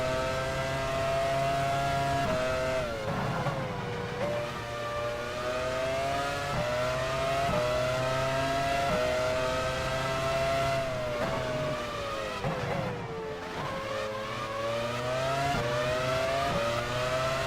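Formula 1 race cars in F1 Challenge 99-02, 1999 San Marino Grand Prix, with a McLaren and a Jordan nearby: steady loud engine whine with rising and falling pitch through gear changes, continuous for the whole stretch.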